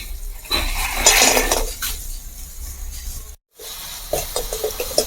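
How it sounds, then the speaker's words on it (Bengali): Crabs dropped into masala in a pan and stirred, starting with a loud clatter and sizzle, then scraping and clinking of a spoon against metal, close and loud after a short break. "মশলার মধ্যে ক্যাকড়াগুলো দিয়ে দেওয়ার পর 1-2 মিনিট মতো আমি একটু কষিয়ে নিলাম।"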